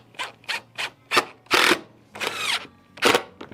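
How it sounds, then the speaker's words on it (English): A power drill with a guide bit boring a pilot hole into plastic, running in several short, loud bursts that rise and fall, with a couple of longer grinding passes near the middle. "Just a guide drill bit for the screws to get started easier."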